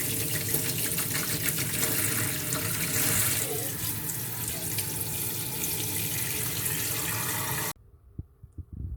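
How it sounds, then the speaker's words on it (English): Cold tap water gushing steadily into a metal canner pot for jarred meatloaf, a loud even rushing stream for about eight seconds before the flow shuts off abruptly, leaving faint drips and clatter. "And then you want to fill it up with cold water."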